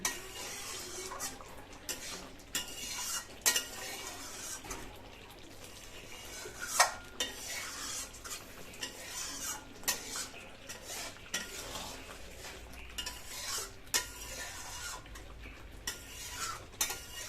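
Potato curry gravy for aloo dum thickening in a pan, with repeated metal spoon scrapes and clinks against the pot over a faint bubbling sizzle, fairly quiet and close.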